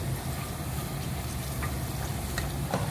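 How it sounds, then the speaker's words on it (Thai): Banana pieces deep-fry in hot oil while being stirred: a dense, steady crackling sizzle close by, with a few faint scraping clicks from the stirring and no voices. "ทอดให้เขาเหลืองกรอบดีเลยค่ะ เนี่ยค่ะระหว่างทอดเราก็คนไปด้วยนะคะ"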